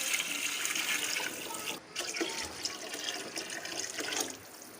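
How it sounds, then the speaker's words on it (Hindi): Water pours into a cooking pot for pulao with soaked rice, a steady splashing flow that breaks off briefly midway, then resumes and trails off near the end. "अब मैं इसमें पानी शामिल करूँगी।"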